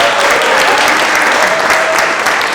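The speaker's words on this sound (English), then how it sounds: "Another round of applause for Carmen and Amanda, who is out there." Audience applause at a university venture competition final round, dense and loud, a continuous burst of many hands clapping with no voices over it.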